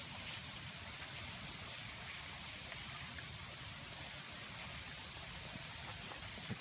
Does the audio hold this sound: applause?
no